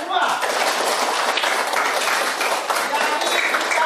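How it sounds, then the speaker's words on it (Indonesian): A room of people applauding together, a sustained, fairly loud wash of clapping that holds steady throughout, with speech mixed in underneath. "tepuk tangan semua"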